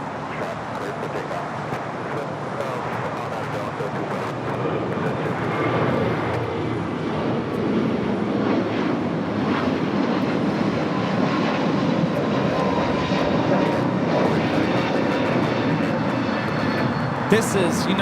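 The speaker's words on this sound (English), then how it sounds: "2487 taking off to Chicago on the A321neo" A United Airlines A321neo jet takes off at LAX bound for Chicago, its engines roaring steadily and loudly throughout, mixed with distant traffic and an airport background.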